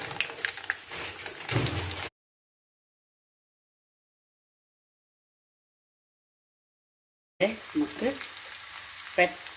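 Mustard seeds splutter in hot oil for a tempering, giving a close crackling sizzle that breaks off into several seconds of silence and then returns under some talk.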